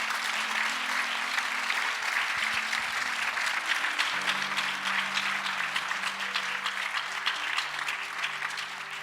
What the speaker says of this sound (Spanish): Podemos dar una ofrenda de aplausos al Señor.